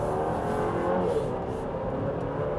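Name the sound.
SUV four-cylinder engine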